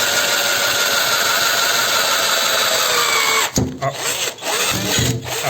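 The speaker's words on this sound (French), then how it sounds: "Alors là, oui, ça perce pas mal." A power drill whines loudly and continuously as it bores into an aluminium bicycle frame, then cuts out abruptly partway through, leaving a few short bursts and rattles.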